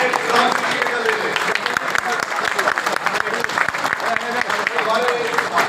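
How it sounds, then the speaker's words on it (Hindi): A crowd of BJP party workers gives loud, continuous applause at a political gathering for candidate Ramvir Bidhuri, with steady dense clapping while a voice speaks over it. "एक बार जोरदार ताली से ताली ऐसी बजनी चाहिए"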